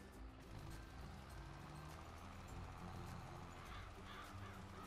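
Crows cawing in the video game Farming Simulator 22, scattered harsh calls over a steady low engine drone from farm machinery, with a faint vehicle hum throughout and no talk.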